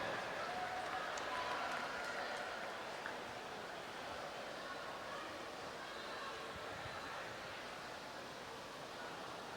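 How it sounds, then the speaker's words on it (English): At a short course swimming championship pool, spectators applaud swimmer Matt Hyde with a dense, hissing wash of distant clapping that fades gradually, echoing through the natatorium. "Give him a round of applause."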